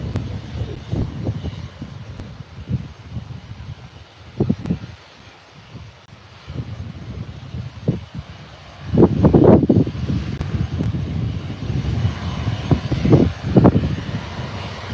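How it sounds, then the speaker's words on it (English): Lufthansa Airbus A319 jet at Birmingham Airport: a steady engine roar from the aircraft nearby, swelling louder in the second half, with some wind buffeting on the microphone and no talking. "Lufthansa A319 right in front of us"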